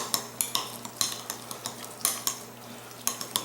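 A utensil clinks and scrapes against a bowl as a beer and soy sauce mixture is stirred, quick irregular taps and rattles fairly close, with no voices.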